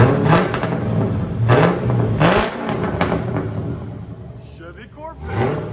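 Straight-piped 1991 Chevy Corvette with a 5.7L V8 revs in repeated sharp bursts, each climbing and falling back to a rough idle, loud and close, with people talking over it.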